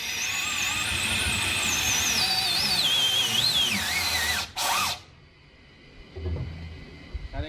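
A Detroit Diesel 16V71 sixteen-cylinder two-stroke engine is cranked at start-up with a loud, wavering high whine that rises and falls, then cuts off abruptly, leaving quieter low rumbling and a few knocks.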